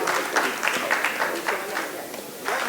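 An audience of cycle traders claps together in a short burst at a Hindi poetry gathering, uneven rhythmic clapping with audible individual claps for a couple of seconds.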